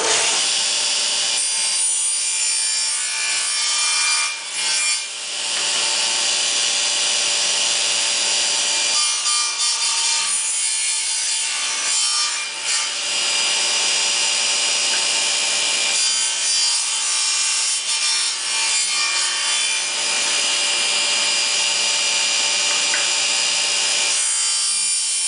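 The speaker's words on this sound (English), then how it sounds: "we're going to chamfer this little corner on all 4 sides." A small wooden corner is chamfered by hand on all four sides: dry, scraping rasp strokes come in several close, steady bursts separated by short pauses, with no talking.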